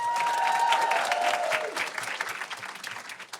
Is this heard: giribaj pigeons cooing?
no